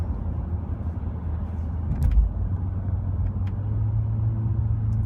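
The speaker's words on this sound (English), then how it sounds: "I like being able to have the engine slow down for me" A steady low engine rumble from inside a 2016 Honda Accord Sport as it slows, the drone holding even and easing along without revving.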